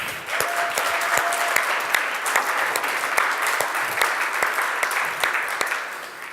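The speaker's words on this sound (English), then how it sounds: "why don't we just give a big round of applause for the judges?" A crowd applauds the judges at a VR tech convention rally, loud steady clapping with sharp individual claps standing out, continuing evenly throughout.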